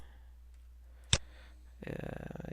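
A single sharp computer mouse click while selecting lines in AutoCAD stands out against quiet background hum, followed shortly by someone speaking.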